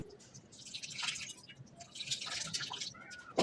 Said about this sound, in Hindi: दूध कडल हो जाए, पनीर और पानी अलग हो जाए तो मलमल के कपड़े में छान लें।